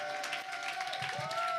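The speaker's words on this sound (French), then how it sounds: "On les applaudit!" Audience applause for children at a Christmas show, a short stretch of clapping and crowd noise with a sustained tonal sound running over it.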